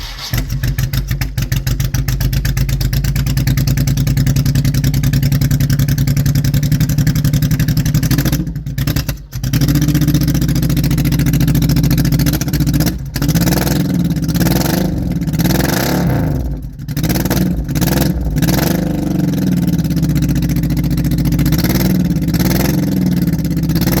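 A 1986 Dodge Shadow engine with an aftermarket exhaust rumbles loudly and steadily at a cold idle with a deep throaty exhaust tone, a few brief dips and blips in the revs partway through.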